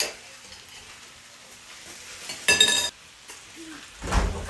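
Sour cream is stirred by hand into a potato casserole, with a soft, quiet scraping of a spoon against the dish interrupted by two short, louder bursts of clattering and scraping.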